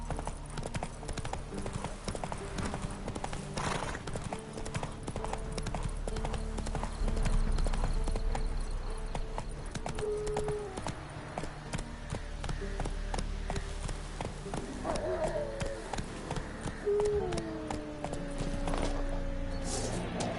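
A horse gallops in the video game Witcher 3, steady rhythmic hoofbeats thudding close for the whole stretch, with a brief whinny and faint game music underneath.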